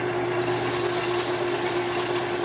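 Turned wood spinning on a lathe is sanded with 220-grit sandpaper for a stainless steel pie server handle, giving a steady continuous rasping hiss over a constant motor hum.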